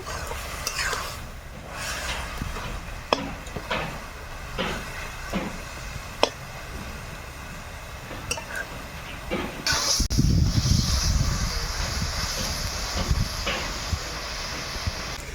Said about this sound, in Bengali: এবার শাক থেকে একটু ভেজে নেব